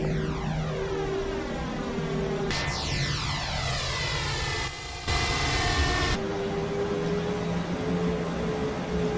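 A Lufthansa Airbus A320 taxiing slowly in the FSX flight simulator, a steady engine whine with tones that sweep and shift as the thrust changes, moderately loud and continuous with no talking.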